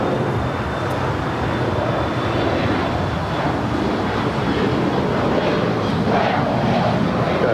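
A jet airliner takes off from runway 25 right at Los Angeles International Airport, its engines a steady, loud broadband roar that holds evenly throughout with no talk.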